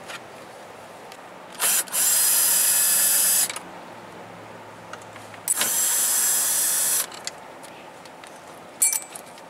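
Power tool undoing a bolt inside a Tesla Model S/X during MCU removal: two sustained loud whirring bursts of a few seconds each, then a brief short whir near the end, with quiet pauses between.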